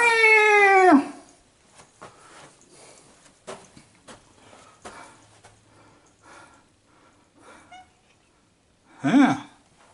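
A cat meows loudly and close by while exploring a condo in Nags Head, with one long drawn-out call at the start, scattered soft rustles and movement after it, and a second shorter call near the end.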